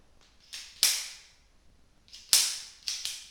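A Browning 1906 pocket pistol in 6.35 mm (.25 ACP) being handled and checked to be unloaded, giving a few sharp metallic clacks and snaps of the slide and action, close and fairly loud with quiet gaps between.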